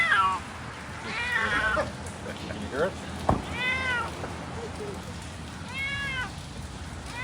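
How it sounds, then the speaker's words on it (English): A cat rescued from a house fire and hiding in a basement meows several times in drawn-out cries, with people talking nearby and a soft background hiss. "He can sound like there's a cat in there."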